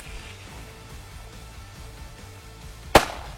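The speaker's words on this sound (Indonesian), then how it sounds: "Metode pengusiran lain pun dilakukan, yaitu dengan alat pengusir petasan." A single sharp firecracker bang, set off in a forest to drive away elephants, goes off near the end, a loud crack after a stretch of quiet outdoor background.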